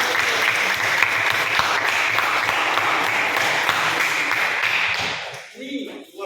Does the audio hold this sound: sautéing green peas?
no